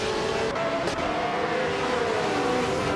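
A classic 1967 Ferrari 312 roars in a racing video game, its engine note sustained and steady across the whole stretch, loud and close with slight pitch shifts as it pulls along the track.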